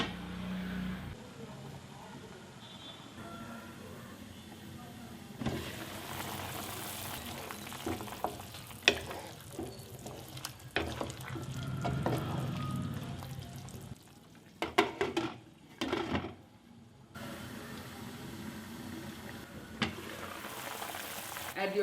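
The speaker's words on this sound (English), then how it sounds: "Stir, cover and cook it for 20 minutes." Chicken with sliced bamboo shoots cooking in a pan, village style, with an ongoing sizzle and bubbling broken by intermittent stirring and scraping, close by, with faint talk at times.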